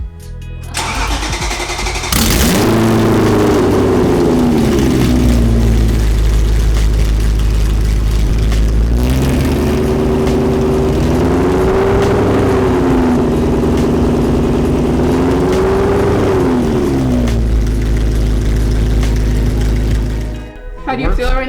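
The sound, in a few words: V8-swapped BMW 1M engine revving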